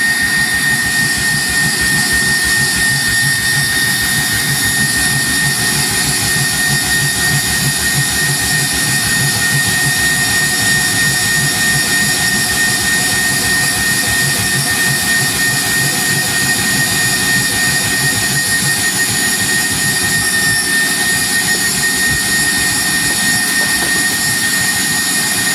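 A stand mixer whipping basil ice cream base runs at high speed with a loud, continuous whirring roar and a high mechanical whine that stays constant throughout.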